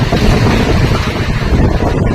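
Strong wind during the year's first rain buffets the microphone outdoors, a loud continuous rushing roar with no pauses throughout.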